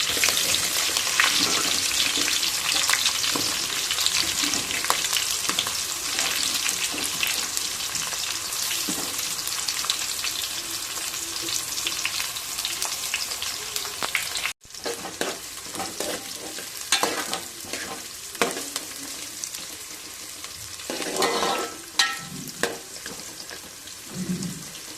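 Onions fry in a pan for country chicken curry, giving a loud, continuous sizzle broken by stirring scrapes, which grow more frequent after a brief pause midway.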